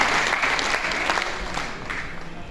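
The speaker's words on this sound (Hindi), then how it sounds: "तो एक बार पुनः महाराज श्री के लिए जोरदार तालियां" An audience at a religious gathering honoring a revered spiritual leader claps in a dense round of applause that gradually tapers, steady and near, with no voices over it.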